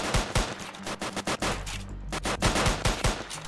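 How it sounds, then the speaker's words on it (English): Rapid gunfire from many players in the Roblox game Framed, with dense overlapping bursts of shots that crackle continuously throughout. "They're all shooting at one guy, apparently."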